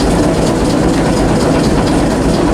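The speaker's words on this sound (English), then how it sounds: "Sucking in air for the braking system." A loud, steady mechanical rumble from a Kolkata tram's air brake compressor, continuous and close with no pauses.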